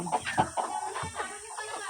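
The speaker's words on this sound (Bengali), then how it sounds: "ওই দেখো মুরগি কতগুলা মুরগি" Chickens cluck in a steady, close chorus, short clucks overlapping one another without pause.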